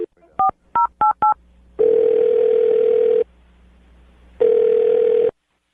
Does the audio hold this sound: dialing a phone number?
yes